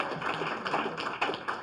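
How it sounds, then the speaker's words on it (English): Clapping from an audience at the 2017 Goldziher Prize for Journalists ceremony. A short, close burst of dense, uneven claps, loud and continuous with slight rhythmic swells. "You can applaud that."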